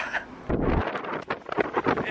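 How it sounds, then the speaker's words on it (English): Wind buffeting the microphone in gusty, rumbling bursts, fairly close and loud, with outdoor noise mixed in, during brake disc and pad replacement on an Audi TT. "It's a bit windy,"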